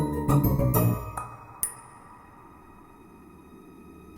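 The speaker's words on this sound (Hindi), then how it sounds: "मम्मी का कॉल आ रहा है।" A mobile phone rings with an incoming call, a short burst of bright tonal notes for about a second, then a single sharp chime before quiet room tone.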